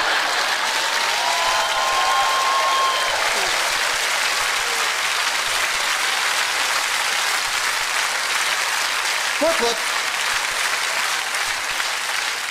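A comedy show audience claps steadily in a packed hall, a dense, sustained wash of applause running throughout, with a brief spoken interjection and a short vocal sound partway through.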